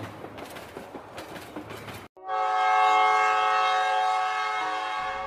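A cartoon train pulling into a railway station at night: rhythmic rattling clatter, then a long, loud, sustained horn blast that holds steady and tapers off near the end.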